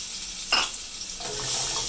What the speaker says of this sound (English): go in with the potatoes, and it should make a sizzling sound